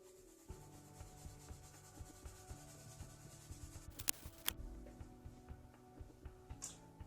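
Pencil shading across paper while filling in the surfaces of a technical graphics drawing, a soft, steady scratchy rubbing with repeated strokes and light ticks, close and fairly quiet, with one brief louder clatter midway.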